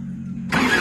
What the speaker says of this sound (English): Let's do a 3/4 throttle.